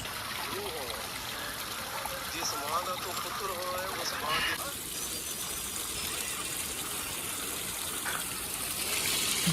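Water rushing steadily from a dusty pipe at a mountain source near Manali, a loud continuous gushing and splashing that fills the whole clip without pause.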